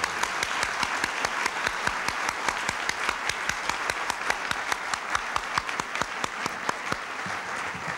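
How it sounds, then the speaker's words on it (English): Dinner guests at a Eureka College fundraising dinner with President Reagan applaud Mrs. Ronald Reagan, sustained clapping with sharp, regular individual claps standing out near the front of the room. "I think she truly deserves the applause that we offer her."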